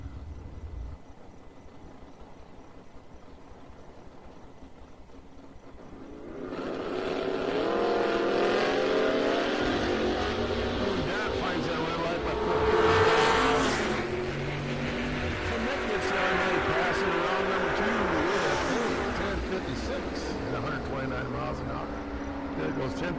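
A race car at TriState Raceway roars past on the track. The engine starts faint, then surges loud and holds a sustained high-revving drone with a swell partway through, while an announcer talks over it.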